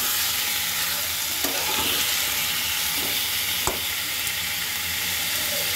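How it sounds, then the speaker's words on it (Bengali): Desi rooster chicken meat fries in a pan with a loud, steady hissing sizzle, broken by a few scraping strokes and one sharp clack of the stirring spoon, close and without speech. "এবার মাংসটাকে সুন্দর করে ভাজতে হবে"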